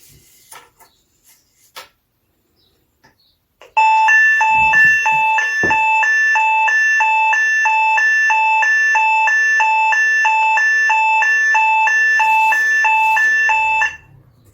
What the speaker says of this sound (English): When you press your pendant button, a loud pre-alarm will sound.